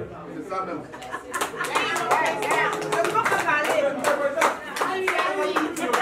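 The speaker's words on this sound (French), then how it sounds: "Est-ce qu'on peut applaudir encore très très fort?" Hand clapping at a traditional wedding, rhythmic and fairly close, with claps running steadily throughout alongside crowd chatter and voices.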